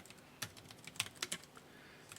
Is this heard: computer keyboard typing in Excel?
yes